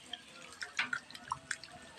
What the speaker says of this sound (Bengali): এই যে আমি এবার জল দিয়ে দেব। এটা ভালো করে আমি নাড়া দিয়ে ধুয়ে নেব।